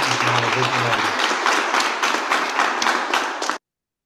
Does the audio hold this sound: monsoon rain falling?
no